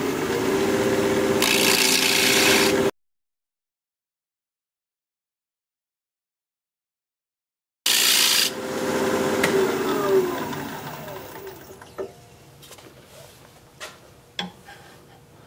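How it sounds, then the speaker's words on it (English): Gouge cutting the inside of a sycamore bowl on a wood lathe spinning at 1750 RPM, a loud steady scraping drone that cuts out for several seconds, then returns and fades into intermittent scrapes and taps. "we're going to get to turning the inside of this Sycamore bowl"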